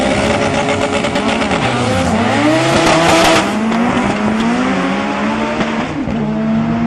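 A front-wheel-drive race car makes a fast drag run at Tarlton Raceway, its engine screaming loud and close, the pitch climbing through several gear changes, with tyre squeal early on.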